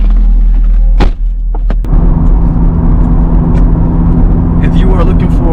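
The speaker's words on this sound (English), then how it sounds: "Gotta love the sound of an LS engine." A Corvette C6 LS V8 with a Borla exhaust idles with a loud, steady low rumble, broken near the start by a couple of sharp thumps, with talk over it.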